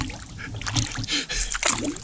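Paddle strokes pull a canoe or kayak along a straight river stretch, with soft water swishes and drips repeating close by over light background noise.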